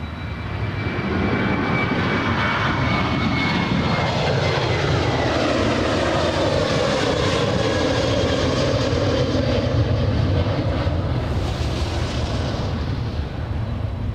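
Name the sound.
airliner jet engines at Anchorage airport, Boeing 747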